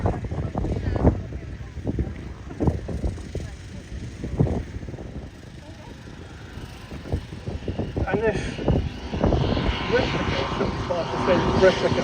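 Propeller aircraft taxiing in at Headcorn airshow, a steady engine drone with repeated thumping pulses, fairly close, while a voice talks over a public address throughout.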